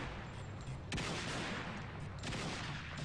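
Rapid bursts of gunfire from a weapon in the game Madness Project Nexus, a dense continuous rattle of shots with sharper cracks near the one- and two-second marks, loud and without talk.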